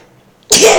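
A person's sneeze during a session of the horror game The Classrooms: one sudden, loud, broad burst that breaks near silence and holds for a moment.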